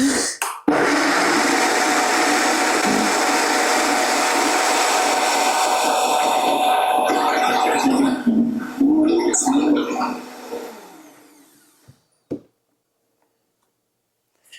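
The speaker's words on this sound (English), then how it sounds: "Let's give this a blend" A blender whirs loudly and steadily as it purees a vegan mac and cheese sauce, running for about ten seconds before winding down and stopping, with a couple of brief knocks at the end.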